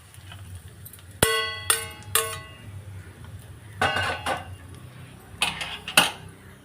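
A metal pan of tempering knocks and scrapes against the rim of a chutney bowl as it is poured out for radish chutney, giving several bright, ringing clanks spaced irregularly, close by.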